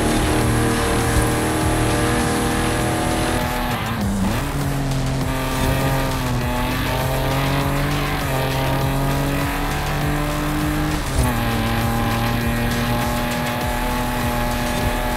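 A race car engine in Forza Horizon 5 drones steadily and close throughout, its pitch dipping and climbing again through gear shifts, with no talk over it.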